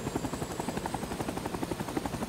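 A video game helicopter in Rising Storm 2 Vietnam spins up its rotor, a quiet rhythmic whop-whop of blades thumping about five times per second alongside a faint turbine whine, steady and without talk.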